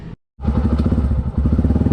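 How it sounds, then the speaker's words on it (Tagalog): A warmed-up motorcycle engine idles close and loud with a steady, lumpy pulsing beat after a brief silent gap at the start. "napainit ko na rin yung makina ni Mia"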